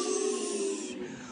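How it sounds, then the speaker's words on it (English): A brief breathy hiss of wind rushes steadily, then thins out and fades near the end, with no talking. "Let's hear some wind sounds."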